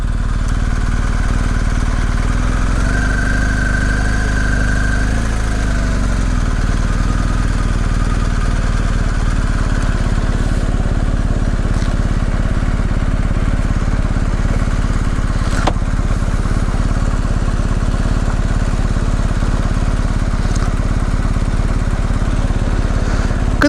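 A motorcycle engine idles steadily and loudly nearby at a park entrance in Piatra Craiului National Park, Romania, its low rumble constant throughout with faint background sounds.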